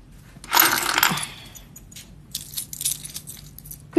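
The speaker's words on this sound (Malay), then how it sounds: "Kunci kereta Syam" Car keys jangle and clink as they are handed over, a bright metallic rattle at the start followed by softer jingling, with no talking.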